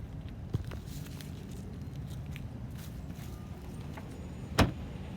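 A Toyota Camry trunk pops open from a smart key fob: a quiet outdoor hum with a soft click early on, then a sharp latch clunk near the end.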